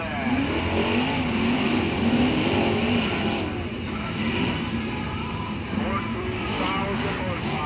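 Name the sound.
sprint cars racing on dirt at I96 Speedway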